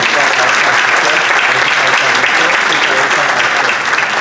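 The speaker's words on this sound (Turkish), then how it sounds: "Alkışlar onun için aslında." Loud, dense applause from a concert audience, sustained and close, a continuous wash of many hands clapping without pause.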